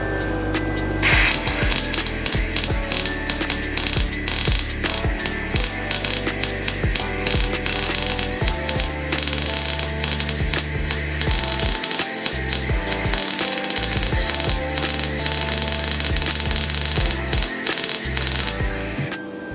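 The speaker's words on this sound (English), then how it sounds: "this is the first time I've ever actually MIG welded with any kind of gas" MIG welding with shielding gas gives a close, continuous crackling buzz broken by irregular sharp pops, running unbroken for about twenty seconds with no talking.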